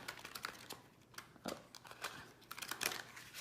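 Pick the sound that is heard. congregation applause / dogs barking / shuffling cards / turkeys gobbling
shuffling cards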